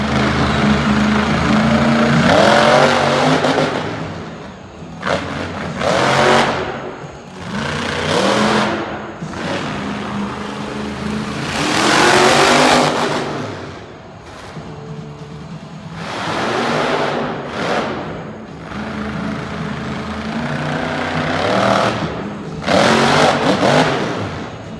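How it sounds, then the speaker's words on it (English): A monster truck engine revs repeatedly in long, loud surges that rise and fall at a motorsports show in Winnipeg, with roaring crowd-like noise between bursts. "the newly branded Crude monster truck"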